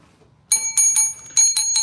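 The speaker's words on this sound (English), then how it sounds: "Let me hit the bell properly for Crystal." Small bell struck several times in quick succession, bright ringing tones with clear repeated strikes close up, following a brief quiet start.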